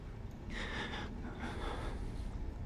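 A character in the Outlast horror video game breathes heavily, in two drawn-out, raspy gasps over a low ambient rumble, close and moderately loud.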